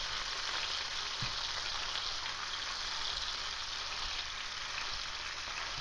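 Steady, close sizzling and crackling of ground beef frying in a hot pan, continuous with a faint scrape of chopping and stirring.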